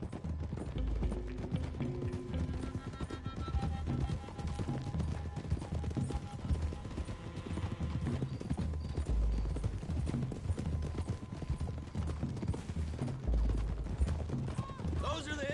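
Horses galloping in the video game Red Dead Redemption, a steady rolling clip-clop of hooves with low thuds, continuous throughout under a busy game soundscape with music and effects.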